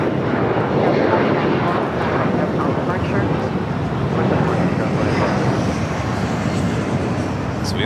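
An Air Premia Boeing Dreamliner airliner arriving at LAX on the north side, a loud, steady broadband engine roar that holds throughout with wind buffeting, and a voice talking over it.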